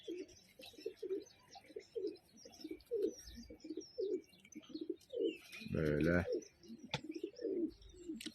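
Pigeons coo repeatedly in soft rhythmic bursts close by among a kept flock of pigeons, including homing and tumbler birds, with a brief louder flapping or cooing burst midway and someone speaking briefly.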